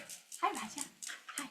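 A pet dog lets out soft whimpers and small yips indoors during a yoga session, brief, close and fairly quiet, interleaved with a person's spoken greeting.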